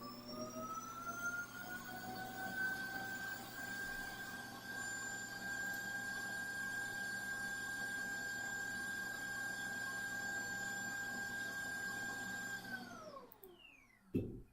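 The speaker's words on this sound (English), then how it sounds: "So the robot vacuum was going on." A robot vacuum cleaner runs nearby with a steady whirring motor whine and a constant broadband hiss, holding level for about thirteen seconds before the motor pitch drops sharply as it winds down.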